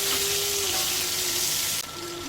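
Potatoes and pointed gourd fry in oil in a pan, a steady close hiss of sizzling that drops slightly toward the end, with no talk.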